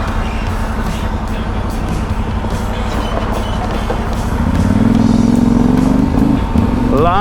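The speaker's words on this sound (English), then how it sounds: "Lots and lots of log trucks. Every few minutes I meet them" A log truck rumbles past a motorcycle on a backcountry dirt road in Idaho, its heavy engine drone and rattling load swelling louder over the bike's steady engine noise as it closes in.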